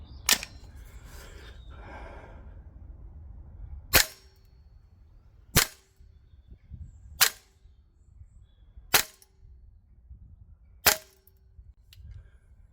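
A Salvo Precision MWS Spear LT gas blowback airsoft rifle on green gas fires 0.25 gram BBs in six sharp, evenly spaced single shots, close and loud against a quiet outdoor background.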